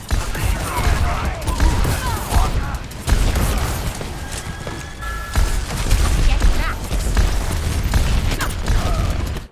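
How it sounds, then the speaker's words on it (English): Overwatch gameplay as Pharah rocket jumps, with bursts of explosive blasts and mechanical weapon clatter layered over constant game noise while a commentator talks throughout. "Rocket jump, nice."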